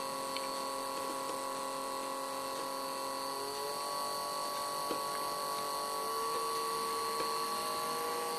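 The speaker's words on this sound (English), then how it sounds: "If we want to go up, so now it's going up, as you can hear the sound of the motor." A small PWM-controlled electric motor whines steadily at high pitch, its tone stepping upward partway through as it speeds up, with a constant hiss behind and no talking.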